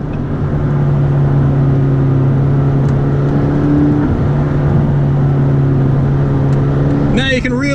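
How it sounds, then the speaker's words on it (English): A McLaren 12C's twin-turbo engine pulls hard from inside the car, a loud steady drone with a rising whine and a brief dip in the middle, and a voice breaks in near the end. "Now you can really hear those turbos back there."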